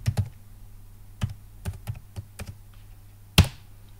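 Keys tapped on a computer keyboard while typing Python code, a sparse run of close, light clicks with one sharper final keystroke and no talk.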